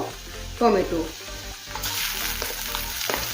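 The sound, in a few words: ginger garlic paste frying with browned onions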